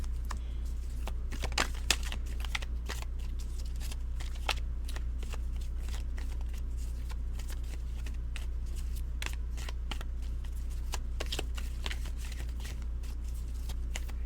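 Tarot cards shuffled over and over during a Leo reading, a steady papery riffle with repeated sharp flicks and slaps over a constant low hum, with no talking.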